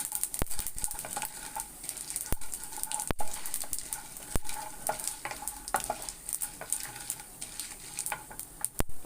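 Chana dal frying in hot oil for a chayote poriyal, with steady crackling sizzle and frequent sharp clicks of a spoon stirring against the pan, close and continuous throughout.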